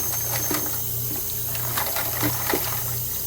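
Hot tap water running into a pot, a steady rushing stream with a faint rhythmic hum underneath, close and continuous, no voices.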